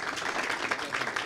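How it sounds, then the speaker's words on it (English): Audience applauding the panelists at a youth leadership prize panel, a brief burst of continuous dense clapping, moderately loud with no speech over it. "Let's have a round of applause for our panelists"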